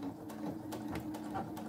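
A sewing machine stitching along a dish towel with tape underneath, giving a brief, close, steady whirring hum with quick regular needle ticks.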